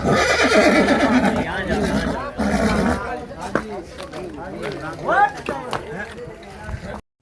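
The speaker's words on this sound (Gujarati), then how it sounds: "ઓલી ઘોડીને જોવા ગઈ ને" A mare whinnies loudly and repeatedly in the opening seconds, then hooves clip-clop and people talk nearby on a farm visit.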